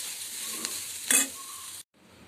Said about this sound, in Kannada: ಈ ಹಸಿ ಕೊಬ್ಬರಿನ ಸ್ವಲ್ಪ ಬಿಸಿ ಮಾಡ್ಕೋಬೇಕು